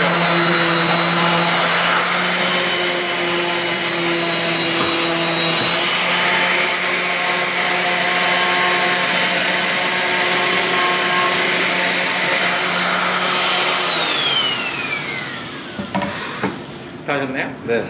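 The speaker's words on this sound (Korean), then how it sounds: "이제 기계사포로" An electric sander whines steadily at a high pitch on wood for a long stretch, then winds down, with a few clacks and knocks as it stops.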